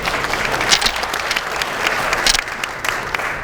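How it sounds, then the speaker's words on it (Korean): A room of party lawmakers at a caucus meeting breaks into steady applause, a dense sustained wash of many hands clapping at moderate distance, with no talking over it. "박수 한번 치십시오."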